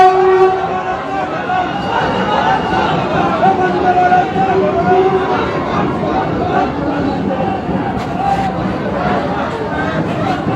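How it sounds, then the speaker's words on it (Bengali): Vande Bharat Express pulling into New Jalpaiguri station, a steady rumble of the train with a sustained horn tone, amid a crowd's chatter and someone talking over it. "আমার পাশ দিয়ে দেখতেই পাচ্ছেন বন্দে ভারত কিন্তু এসে পৌঁছালো নিউ জলপাইগুড়ি স্টেশনে"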